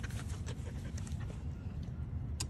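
Dogs panting steadily at close range, a continuous rhythmic breathy huff with faint whimpers, indoors.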